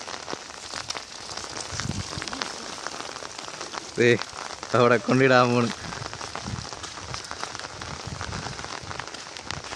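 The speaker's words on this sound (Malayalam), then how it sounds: "മഴ കൂടിയിട്ടുണ്ട്." Steady rain patters on a surface at an outdoor fish-catching spot by a shed, a dense continuous hiss that stays even throughout, while someone speaks briefly in the middle.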